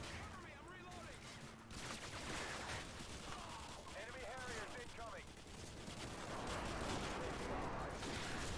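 Rapid automatic gunfire crackles through a busy Call of Duty multiplayer match running on IW4X, a dense steady barrage of shots filling the whole stretch at moderate distance, with no talking.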